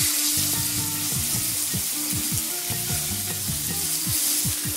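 Tilapia fillets sear in hot butter and oil, a loud steady sizzle and spatter close up throughout, with faint low knocks and clatter from the pan beneath.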